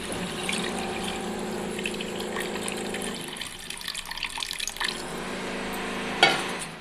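Tamarind water pours and gurgles into a pan of cooking fish for a few seconds, then quieter bubbling follows, ending with a brief clatter.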